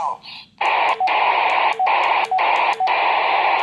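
Continuous loud hissing static from a Baofeng UV-5R handheld radio with squelch off fills the clip, interrupted by a few brief clicks and short dropouts, with no voices.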